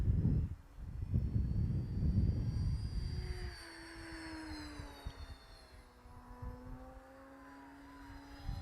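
A HobbyKing Avois Kobuz sports-scale aerobatic RC glider flies past outdoors, giving a thin rising and falling whine over steady wind rumble, moderately distant and continuous.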